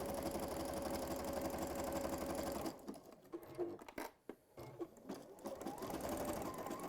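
A sewing machine runs a zigzag stitch up a folded fabric pouch, a loud, close, fast steady whirr for nearly three seconds, then a pause with soft handling noises before the machine starts up again.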